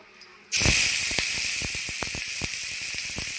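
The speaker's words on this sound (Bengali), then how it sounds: "ডিম ভেজে উঠিয়ে নিয়েছি ওই তেলে দিয়ে দিচ্ছি পেঁয়াজ" Onions dropped into hot oil left from frying eggs set off a sudden loud sizzle that holds steady as a bright continuous hiss, with small crackles and pops scattered through it.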